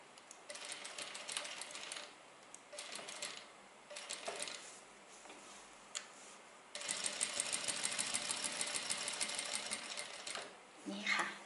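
A sewing machine stitching fabric while an iron-on embroidered patch is sewn onto a shirt, rapid mechanical clatter in two runs with a pause between, the second run longer and louder, no speech over it.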